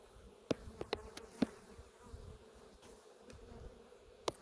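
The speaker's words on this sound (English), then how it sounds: "here comes the bees pouring off of it" Soft, steady insect buzzing hums throughout, with a few sharp close passes as honey bees pour off a comb during a late April hive inspection.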